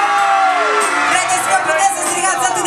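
A large outdoor crowd at a city event in Beclean, Romania, shouts and whoops loudly together, a dense sustained roar with rising yells close to the microphone.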